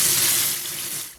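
Tap water running steadily into a sink, rinsing salty brine off drained beans for a cast iron pot stew; a close, continuous broadband rush that eases slightly toward the end.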